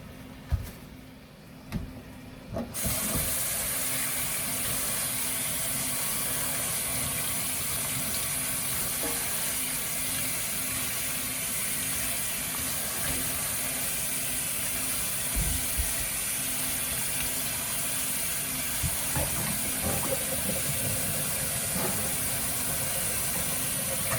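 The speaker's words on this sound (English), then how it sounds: "Now we'll put it over here and rinse it." Tap water runs steadily into a kitchen sink while cabbage is rinsed for Southern-style fried cabbage, a continuous hiss and splash after a brief quieter start, with occasional knocks of handling.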